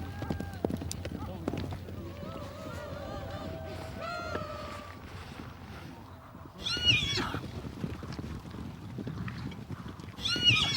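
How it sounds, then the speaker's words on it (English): Horses on the open steppe neigh and whinny in shrill rising calls over a busy rumble of hooves, with a narrating voice talking through much of it and loud whinnies standing out near the end. "the horse."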